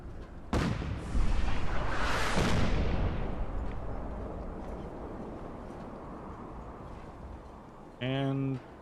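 Artillery fire in the video game Fallout 4: a sharp loud blast near the start, then a heavy rumbling explosion that slowly fades, with a short tonal game sound near the end.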